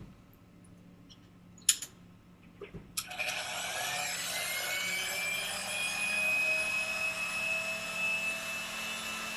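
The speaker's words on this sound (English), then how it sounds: "This video demonstrates the heat shrink machine that comes standard with all Sodick high-speed mills." Sodick heat shrink tool holder machine for high-speed mills: a couple of sharp clicks, then a loud whirring whine starts and holds steady with a rising tone.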